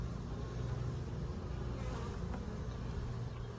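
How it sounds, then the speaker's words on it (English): Honeybees buzzing densely around an opened hive box during an inspection, a constant close drone with no voices. "Ooh, they got a cluster of bees together."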